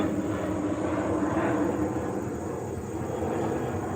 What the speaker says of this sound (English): another plane flying overhead